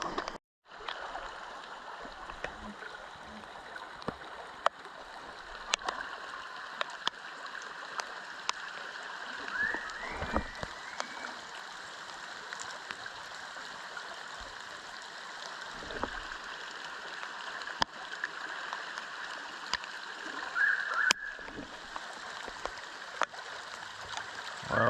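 Flooded stream rushing steadily, a constant broadband wash of flowing water heard at moderate distance, with occasional small clicks and knocks nearby and no talk.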